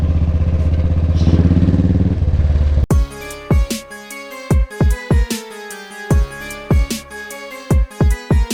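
A Royal Enfield motorcycle engine runs loud and close with a deep pulsing thump for about three seconds, then gives way to a series of sharp, ringing metallic strikes.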